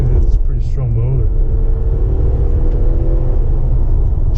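An Infiniti Q60 3.0T pulls hard on a freeway, a loud steady engine drone and road rumble rising in pitch, with someone talking over it inside the cabin.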